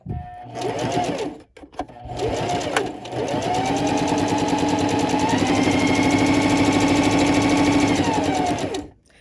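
A beginner sewing machine stitches fabric for reusable gift bags, running in a steady, loud mechanical whir for several seconds after a brief start-stop, with no talking.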